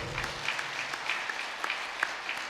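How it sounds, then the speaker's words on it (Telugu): An audience at a pyramid meditation gathering applauds 350 ambassadors, a steady wash of many hands clapping with a few sharper, closer claps standing out throughout. "ఈ 350 మంది అంబాసిడర్స్కి గట్టిగా చప్పట్లు కొడదాం"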